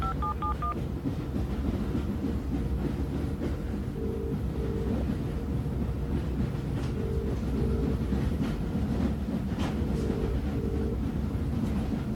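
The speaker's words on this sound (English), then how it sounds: "I'm aboard the train without you." Continuous rumble of a train running on rails, with steady rolling noise and faint rhythmic clacking, plus beeping phone-dialing tones that come and go.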